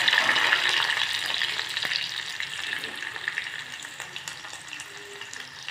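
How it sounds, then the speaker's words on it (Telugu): Onions, green chillies and curry leaves fry in a pan for a shrimp-peel curry, a dense, steady sizzle close by that eases off slightly toward the end, with no talking. "పచ్చిమిర్చి, కరివేపాకు, ఉల్లిపాయలు వేసి వేయించుకోవాలి."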